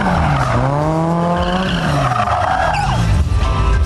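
A Toyota AE86 drifting hard, its high-revving engine climbing and falling through sweeping harmonics while the tires squeal loudly across the whole stretch, close and continuous with no talk.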